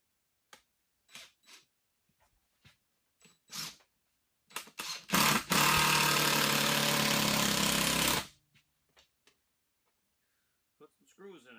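A power drill drives screws into the wood of a custom park bench, a single loud burst of about three seconds after a few short taps and clicks, with quieter knocks following.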